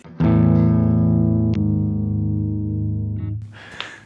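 Electric guitar drop-tuned through a Digitech The Drop polyphonic pitch-shifting pedal: one low, heavy chord struck and left ringing for about three seconds, with a second attack partway through, then a short scrape of string noise as it is muted.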